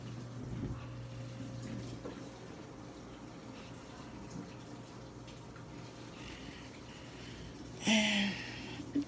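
A Samsung washing machine with an active water jet runs mid-wash, producing a faint steady hum with low sloshing and trickling water, and a short louder splash near the end.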